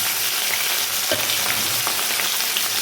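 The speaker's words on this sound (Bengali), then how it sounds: "একটা একটা করে মাছগুলো ভেজে নেব" Fish pieces frying one by one in hot oil, a dense continuous close sizzle with a few soft stirring touches, no talking.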